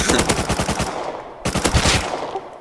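Rapid automatic gunfire from the survival video game Rust, two dense loud bursts of crackling shots separated by a brief gap, close and unaccompanied by talk.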